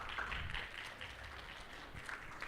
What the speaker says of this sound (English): And now I will ask you for a round of applause for the folks that make this happen.